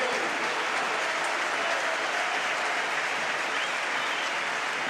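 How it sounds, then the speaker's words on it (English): A large stadium crowd at a Barcelona football match applauds a substitution, a dense, even wash of clapping that stays loud and unbroken throughout. "applause for De Jong and healthy applause for Arturo Vidal"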